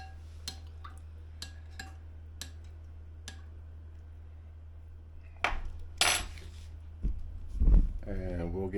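A spoon stirring extra yeast into a sweet molasses raisin bread mixture in a bowl makes a row of crisp, spaced clinks, then louder scraping clatters over a low steady hum, with a voice briefly at the end.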